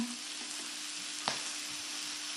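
Meat fries on a Thai moo kata grill with a steady, close, dense sizzle throughout, broken by one brief clink of a utensil partway through.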